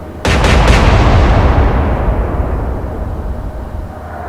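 Naval ship guns in the Atlantic Fleet game fire a rapid salvo of three or four heavy blasts, followed by a long rumbling roar that slowly fades away.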